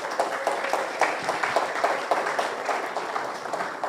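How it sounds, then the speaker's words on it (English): Lecture-series attendees clap for a sponsor in a moderate, uneven patter of applause with distinct individual claps, steady throughout and easing a little toward the end. "Give them a round of applause"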